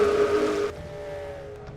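The engine of the STP Pontiac race car whines at a steady high pitch in a NASCAR racing video game's DieHard 500, then abruptly drops to a quieter, lower drone as the car pulls away, with no talking.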